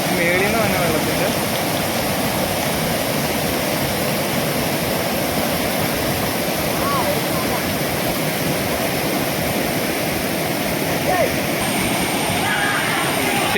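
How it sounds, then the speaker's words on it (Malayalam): A small waterfall and stream beside a Shiva-Subrahmanya temple in Kalathur, with water pouring in a loud, steady rush that holds unchanged for the whole stretch. "ചെറിയൊരു വെള്ളച്ചാട്ടവും കാര്യങ്ങളൊക്കെ ഉണ്ട്"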